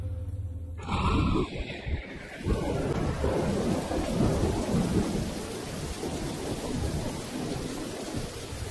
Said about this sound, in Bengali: বাইরে এখনো বৃষ্টি পড়ছে